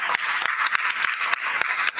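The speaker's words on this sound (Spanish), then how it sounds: "Un aplauso, por favor," Applause for a guest speaker at a talk on Mexican music: a small audience claps briskly in steady, fairly even beats over a couple of seconds, moderately loud and without voices.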